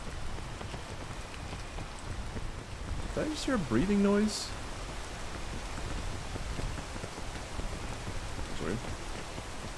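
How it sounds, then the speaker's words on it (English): Steady rain pours throughout a scene in the video game PEAK, a dense hiss of drops spread evenly across the clip, while a voice briefly talks over it partway through. "I just need to wait for the rain to go away. This rain needs to piss off."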